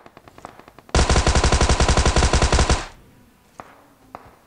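A Thompson submachine gun fires a long, loud, rapid burst of about two seconds in PUBG Mobile on Erangel, with shots in a steady fast rhythm and a few faint single shots and footsteps before and after.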